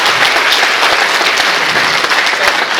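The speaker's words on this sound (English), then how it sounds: "So a round of applause for him," An audience breaks into steady applause, dense clapping filling the room at an even level throughout.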